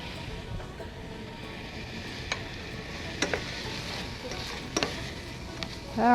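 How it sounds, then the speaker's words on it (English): Onion, green pepper and garlic sizzle in a pan in a steady close frying hiss, broken by a few scraping stirs and clinks. "we're going to go ahead and put our onion and green pepper in there"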